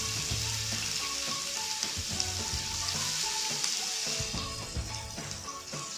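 Ginger and onion fry in a pan, a dense, steady sizzle that runs throughout with occasional stirring clatter and no voices.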